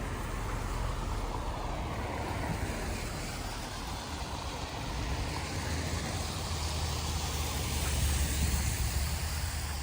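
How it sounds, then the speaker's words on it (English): Traffic on Toronto's Don Valley Parkway heard from a snowy distance makes a continuous, even roadway hiss and low rumble, resembling rushing water, with no break or talking. "it almost sounds like a river of flowing water, but it's actually just the Don Valley Parkway and the cars on it"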